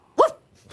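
A person's voice imitates a dog, giving one short, loud bark-like yelp followed by a fainter second sound, heard close and alone in a studio setting.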